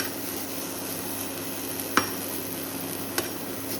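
A washed ingredient for a baby's kasai remedy is dry-roasted in a pan without oil, making a faint, steady hiss with two sharp utensil taps against the pan and no talking.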